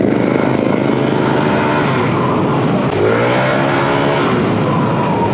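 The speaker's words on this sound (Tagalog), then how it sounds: "Grabe yung traffic." Heavy road traffic at close range forms a loud, continuous engine rumble with a vehicle revving up and passing near the middle, and no talking.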